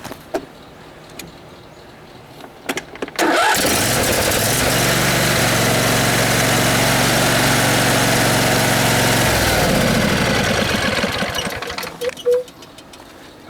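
Used riding lawn mower engine, bought cheap and fitted with a replaced pulley, starts and then runs at a steady loud idle for about eight seconds before shutting off, with a short stretch of quieter handling noise before and after.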